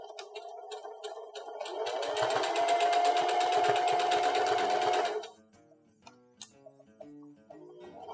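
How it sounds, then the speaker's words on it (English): Sewing machine stitching elastic into a cloth pocket diaper, starting slowly with a few rhythmic ticks, then running at a fast steady whir for about three seconds before slowing to scattered clicks. "Sometimes it's easier to start your sewing machine manually a little bit"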